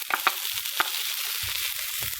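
Green peas tipped into a pan of sizzling shallots, ginger and chili for samosa filling, a steady close hiss of frying with a few sharp scraping and stirring clacks.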